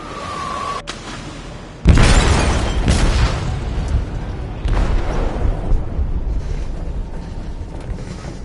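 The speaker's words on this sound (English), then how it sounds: "They detonated an explosive in the hold." A deep explosive boom from a detonation in a ship's hold in the video game Detroit: Become Human, bursting in loud after a quieter stretch, then rumbling and rolling on with scattered debris-like crashes.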